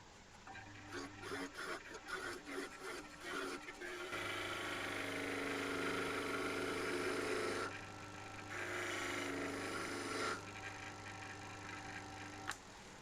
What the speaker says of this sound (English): Rigorous sanding again.